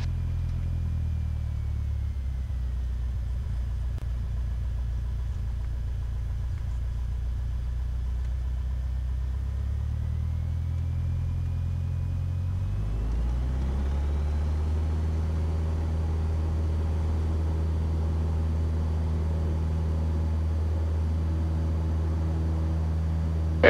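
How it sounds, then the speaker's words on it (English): A small aircraft's piston engine drones steadily at takeoff power, then rises in pitch and intensity partway through as the plane rolls for departure at Baraboo-Wisconsin Dells airport. The engine is loud and continuous, with no talking. "We're clear for takeoff"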